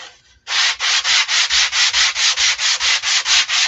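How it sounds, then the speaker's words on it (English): Sandpaper rubs over wooden door rounds to smooth them, giving a steady run of about fifteen even, rhythmic strokes, loud and close with no voices. "I'm going to sand a little bit just to make sure I have a smooth surface"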